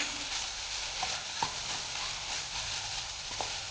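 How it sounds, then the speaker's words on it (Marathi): Roasted gram flour (besan) being stirred into a fish stuffing mixture in a pan, a steady soft scraping with faint sizzle and a few light knocks of the spoon against the pan. "व्यवस्थित मिक्स करून घ्यायचं पीठ"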